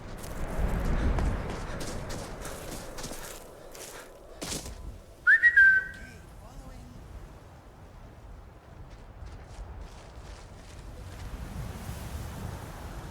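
A short two-note whistle used to summon the follower Inigo in Skyrim, brief and clear over a steady windy, surf-like outdoor ambience.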